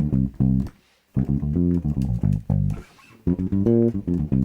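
A bass guitar strung with old D'Addario nickel strings, both pickups on and tone rolled fully off, plays a warm, vintage-toned plucked line of distinct notes in short phrases with brief gaps, loud and close with no talking.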